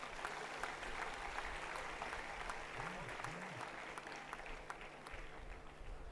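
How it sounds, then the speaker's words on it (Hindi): Audience applause at a birthday gathering honouring Acharya Balkrishna, an even patter of many hands clapping together. It is faint and distant and holds steady throughout. "इस बात पे सबको तालियां बजानी चाहिए।"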